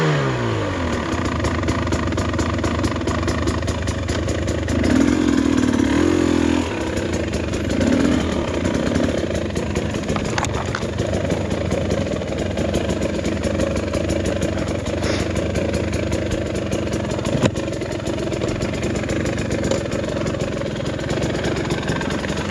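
A brand new 2024 TE300 two-stroke dirt bike runs on a trail ride in the Glass House Mountains, its engine buzzing steadily close by with a few rises in revs and a constant rattly drone.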